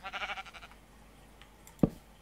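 A sheep in the Minecraft Skyblock video game gives one wavering bleat, followed by a short thump.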